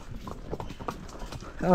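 Horse hooves clip-clop along a hill-station trail in Matheran in summer, a steady quick patter of hoofbeats close by, with a loud tonal sound cutting in at the very end.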